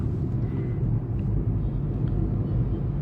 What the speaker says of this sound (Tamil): எவ்வளோ டிராஃபிக், ஹெவி டிராஃபிக்.